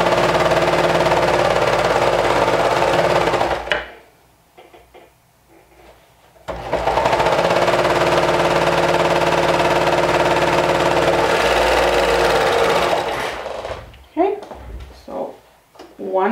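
A sewing machine runs slowly while topstitching a leg seam through the thick, layered color-blocked part of a pair of leggings. The steady motor hum pauses for a few seconds, resumes, then gives way to brief handling noises.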